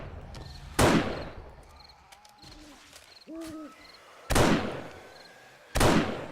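Sniper rifle shots in the video game 7 Days to Die, three loud, sharp cracks spaced seconds apart, with quieter game sounds in the gaps.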